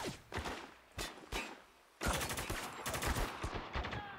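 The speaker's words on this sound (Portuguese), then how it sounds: "Pô, tô errando muito tiro" Gunfire in the PC shooter Spec Ops: The Line: several separate single shots, then a dense burst of rapid automatic fire, loud and close, with no talking over it.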